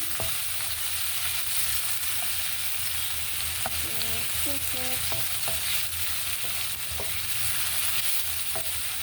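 A home-cooked meat dish fries and is stirred in a pan, a steady loud sizzle with occasional scraping and clinking of the utensil against the pan, close by and without talk.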